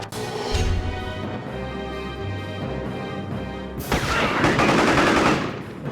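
Loud, dense gunfire erupts in the action game Psi-Ops: The Mindgate Conspiracy, with rapid bursts that swell into a heavier barrage of shots and crashing impacts near the end, with no voices.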